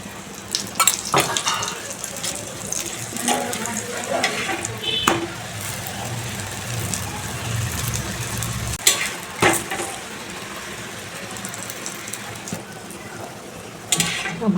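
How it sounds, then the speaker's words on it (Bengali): Aloo paratha fries in oil in a pan with a continuous sizzle, broken by occasional clinks and scrapes of a utensil against cookware. "তেল দিয়ে ভেজে নেব পরোটাগুলো।"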